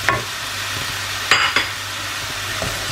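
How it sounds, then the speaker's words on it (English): Tomatoes being stirred in a frying pan, a bright sizzle broken by a few sharp utensil scrapes and taps against the pan, close and fairly loud. "Just give it a little stir."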